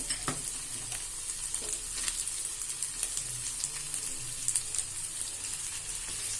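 Garlic and dried red chillies sautéing in a pan for garlic chutney, a busy continuous sizzle with frequent scraping stirs and light clinks of the spoon throughout.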